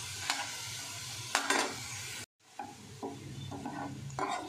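Berista, thinly sliced onions, frying in hot oil for ilish biriyani, a steady sizzle broken by scraping stirs of a spatula in the pan, with a brief cut to silence before the frying resumes.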